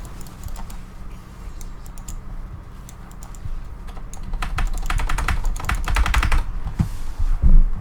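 Computer keyboard keys are struck in fast, irregular bursts of clicking and clacking, starting light and growing louder and busier toward the end, with low background hum underneath.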